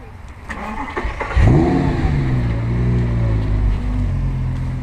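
An Audi R8 starts its engine and revs loudly nearby, the throaty roar settling into a sustained, rising engine note as it pulls away, with a little talk in the background.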